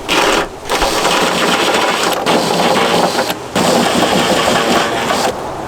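A drill bit cleaning out the mounting holes for a spare-wheel mount on a Lexus GX470. Several loud, close bursts of whirring and grinding are broken by short pauses, with no talk.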